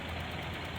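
Car engine idling just after a starter relay was installed, a steady close mechanical hum with an even knocking texture, short and continuous with no talk.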